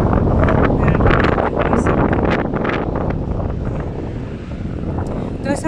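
Strong wind roars and buffets the microphone continuously on the shore of the Rio Paine in Torres del Paine, with a steady, loud broadband rush and faint small waves lapping beneath.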